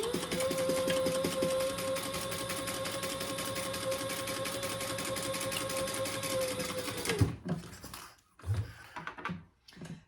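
A sewing machine runs steadily for about seven seconds, top stitching an eighth-inch seam on a cork crossbody bag without interfacing, then stops and a few handling knocks and clicks follow.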